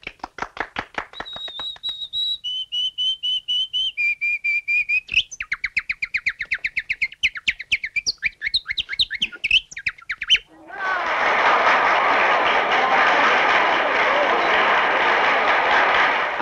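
A person whistles in imitation of canary and nightingale song as done in early autumn, with rapid trills, warbles and sustained high notes. A long stretch of loud, broad hiss follows at the end.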